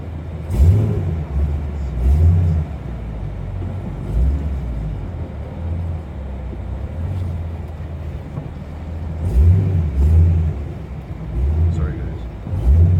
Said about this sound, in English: I can't get over how good this car sounds on a budget exhaust.